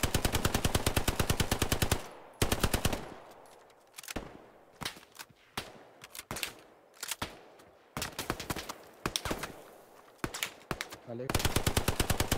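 Rapid machine-gun bursts in Hell Let Loose, a World War II shooter set around a chapel at Remagen, with long rattling volleys at the start and end and shorter sharp bursts between, close and loud, with a brief spoken word.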